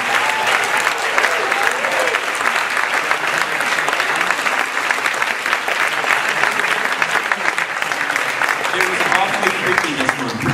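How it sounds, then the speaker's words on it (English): Dense, sustained audience applause at a McCombs Got Talent 2014 student talent show, loud and continuous with many hands clapping and light crowd noise throughout. "let's give these guys a round of applause for this one"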